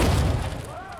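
Ballista firing a heavy bolt in The Witcher 2, a deep booming thud that rings out and decays over about a second, with a voice faintly underneath.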